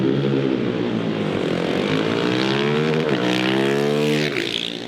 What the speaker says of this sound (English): let's get it outside, test the sound, and full throttle